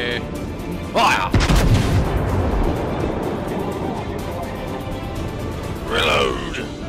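A tank turret cannon in a war video game fires a heavy boom, followed by a long low rumbling tail, with brief bursts of speech-like sound at the start and near the end.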